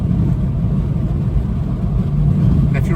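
Steady low road and engine drone from inside a small older Hyundai cruising on a freeway at 100 km/h, a constant loud rumble with no talk over it.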